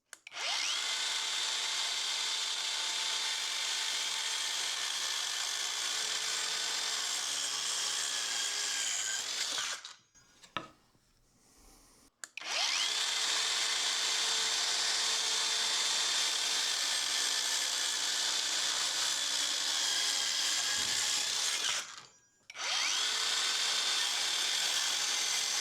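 A Hercules 4.5-inch power saw cuts along drawn lines in wood with a steady high-pitched whine in two long passes, each broken by a short pause before the motor spins up again, with no voices.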